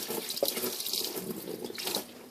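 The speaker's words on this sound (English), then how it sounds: "just kind of pour some water" Water poured over a car engine during a 3.1/3.4 water pump replacement, rinsing coolant off the parts below: a steady, close splashing stream that runs continuously for a couple of seconds with no talking.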